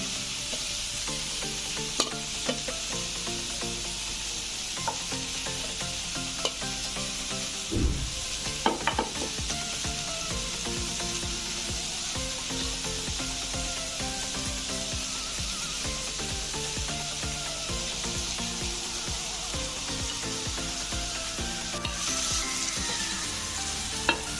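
Chicken kathi kebab frying in a pan, a steady close sizzle with scattered stirring clatters and pops throughout, no talking.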